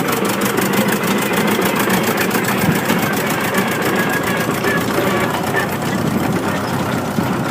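Case 830 tractor driving in 4th gear high range while towing a trailer, a steady loud diesel engine drone with a rapid rhythmic pulsing that runs unbroken and close throughout.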